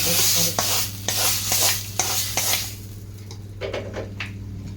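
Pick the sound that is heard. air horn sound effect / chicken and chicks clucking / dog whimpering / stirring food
stirring food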